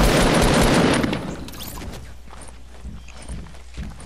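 Gunfire during a Fortnite battle, a loud burst of rapid shots at the start that fades into scattered, quieter pops and clatter.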